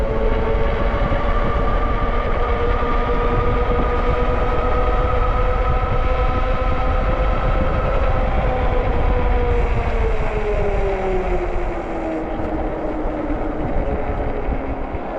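Rear hub motor of an Ariel Rider Grizzly e-bike running, a loud sustained whine with steady tones that glide lower toward the end, over constant rumbling road and wind noise.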